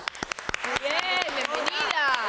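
A studio audience claps to welcome a doctor onto a talk programme, the crisp claps coming in a quick run. A voice speaks over them throughout.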